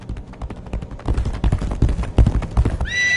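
A horse gallops with rapid clip-clop hoofbeats, then lets out a shrill whinny at the end, in the dark fantasy video game Legacy of Kain: Ascendance.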